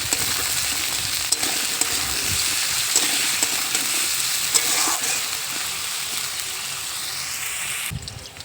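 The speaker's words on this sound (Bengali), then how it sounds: "সরু সরু করে কাটা আলুটাও পেঁয়াজ লঙ্কার সাথে ভালোভাবে ভেজে নেব।" Thinly sliced potato frying with onion and chili in a pan, a dense continuous sizzle with occasional stirring clicks, close and loud, stopping abruptly near the end.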